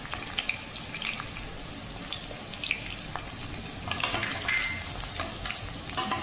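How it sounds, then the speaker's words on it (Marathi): Finely chopped garlic frying in a pan while cabbage manchurian is made, a soft, fairly faint crackling sizzle with occasional stirring clinks, and no talk. "व्यवस्थित बारीक कट केलेला लसूण आपण यामध्ये ॲड करणार आहोत आणि व्यवस्थित तो तळून घेणार आहोत"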